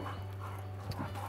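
A dog whimpers and pants softly outdoors by a garden, a brief, restless sound over a steady low hum, with no talking.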